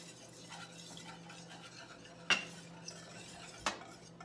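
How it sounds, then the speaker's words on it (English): A whisk works flour into melted butter in a pan for a tater tot casserole roux. The scraping is soft and close, broken by a couple of sharp metallic clinks against the pan. "So what I'm gonna do is add the flour, and then I'm gonna whisk it together."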